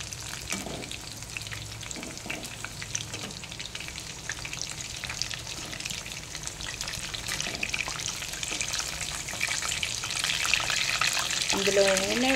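Mirchi bajji crackle and sizzle in hot oil for twelve seconds, a steady dense frying hiss that swells slightly toward the end, with occasional utensil clinks and faint background voices.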